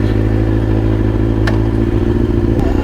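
A motorcycle engine idling too high runs steadily and close by, a constant low rumble for the whole stretch with a couple of brief clicks over it.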